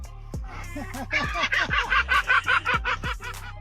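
A wild bird, goose-like, gives a run of loud repeated honks that rise into a rapid cackling, laughing rhythm, close by and alone with no talk.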